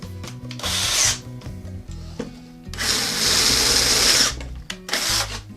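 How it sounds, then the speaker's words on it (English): Power drill boring through material with a larger bit, two long bursts of whining, grinding drilling separated by a short pause, close and fairly loud, ending with a brief extra burst. "I'm just going to use a bigger drill bit"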